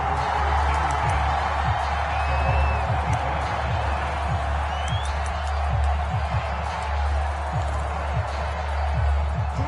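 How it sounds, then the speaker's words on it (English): Home crowd in a Madden football video game stadium cheering steadily, a dense continuous roar with whoops and clapping swelling throughout, loud and close, with no talk over it. "And the home crowd loves it."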